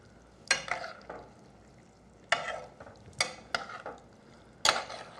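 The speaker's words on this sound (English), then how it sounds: "Stir this up real good." Crawfish and fat are stirred in a frying pan with a handful of distinct, close scraping strokes at an irregular pace over a faint sizzle.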